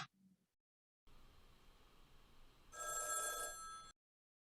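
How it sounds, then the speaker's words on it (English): A telephone bell rings once in a quiet room during an acting class exercise, a bright sustained ring of about a second after a stretch of low hiss. "Remember, you'll hear the phone ring."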